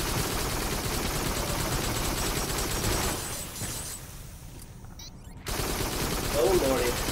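Assault rifle fire from the VR shooter Farpoint crackles in dense, rapid bursts, with a brief lull in the middle before the loud gunfire resumes.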